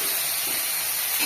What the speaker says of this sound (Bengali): মানে দেখেন আমি বাটা ভেজে নিচ্ছি